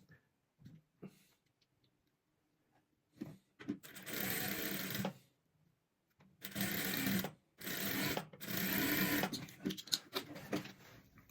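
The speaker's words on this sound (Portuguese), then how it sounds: "Começo a costurar aqui no encontro das duas cores." Sewing machine stitching two colours of fabric together for a patchwork star rug, running in several loud bursts of rapid whirring separated by short pauses and quiet handling noises.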